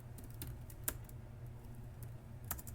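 Computer keyboard typing as IP routing commands are entered, soft scattered key clicks at an irregular pace, faint and close.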